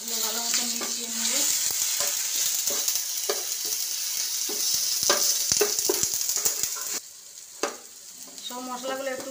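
Coriander powder, cumin powder and turmeric fry in a pan for a vegetarian paneer masala, a steady sizzle broken by repeated scrapes and clinks of a spoon stirring, close and fairly loud with no talking.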